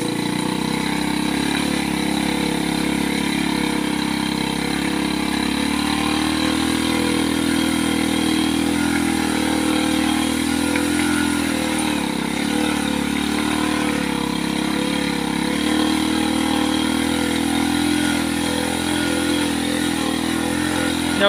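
Engine of a three-wheeled cargo truck in slow gear on a slippery track, a loud, close, steady drone that barely changes for the whole stretch, with no talking.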